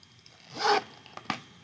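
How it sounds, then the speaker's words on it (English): A rose gold zipper on a pink pouch is pulled in one quiet, short rasping stroke, followed by a couple of faint clicks, heard up close. "It's got like a rose gold zipper."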